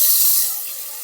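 Gravy of three chopped whole tomatoes hits hot tempering oil with a loud, bright hiss up close that fades over about a second.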